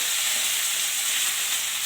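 Onion and curry leaves fry in a pan for pasta with a dense, even hiss, stirred steadily and heard up close without any voices.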